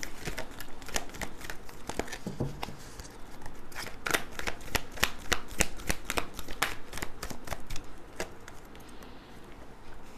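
Tarot cards being shuffled by hand, a close, steady run of crisp riffling and snapping card flicks repeating for several seconds with no talking over it.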